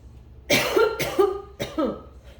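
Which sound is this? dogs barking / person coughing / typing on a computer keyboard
person coughing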